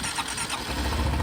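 A 2025 Honda Dax 125 motorcycle engine cranks and catches, settling into a steady low rumble with a muted exhaust note, close by and with no talking.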